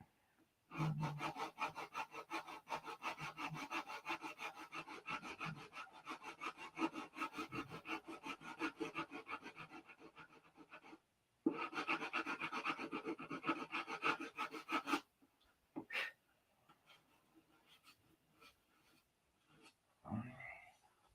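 Hand sanding of wood with sandpaper wrapped on a block, a close, steady rhythmic scrubbing in long bursts with brief pauses, followed by a few scattered knocks and rubs near the end.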